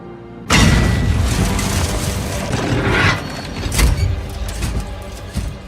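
A land mine bursts under the wheel of the Fury tank in a 2014 war film: a sudden loud boom lands about half a second in, and a sustained rumble follows. Heavy debris and mechanical clatter run through it, with a second sharp burst near four seconds.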